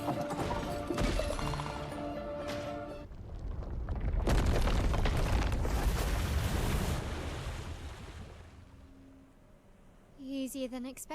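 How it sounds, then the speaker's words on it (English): In Clair Obscur Expedition 33, a dark explosion starts with clanking hits, then swells into a long, roaring blast that rumbles and slowly fades, with a sharp metallic flourish near the end. "Dark explosion."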